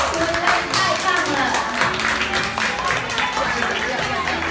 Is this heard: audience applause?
yes